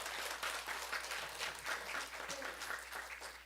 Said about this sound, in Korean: 잠깐 일어나시면 박수로서 환영하도록 하겠습니다.